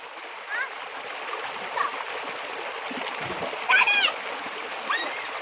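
A small water stream flows and splashes steadily nearby, a continuous watery hiss with gentle gurgles, while people talk over it.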